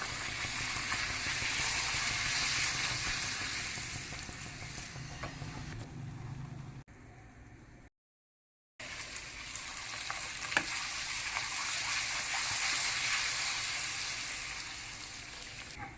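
Puris deep-frying in hot oil give a steady, loud sizzle and bubbling that runs on, drops briefly to near silence partway, then resumes with faint clinks.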